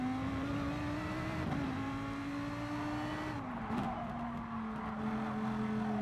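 A Gr.3 race car's engine drones at high, sustained revs down the start-finish straight at Fuji in Gran Turismo Sport, a steady close-up tone that dips briefly with small pitch shifts.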